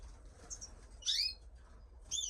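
Pet cock birds, including Siberian classic and pied varieties, give short, high chirping calls: a faint chirp, then two louder bright bursts about a second apart, over a quiet room background.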